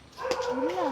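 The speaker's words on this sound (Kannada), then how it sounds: "ನಾಯಿ ಬೊಗಳ್ತಾ ಇದೆ" A dog gives a short, close vocal burst at home in the evening, rising and bending in pitch, heard briefly and fairly faintly.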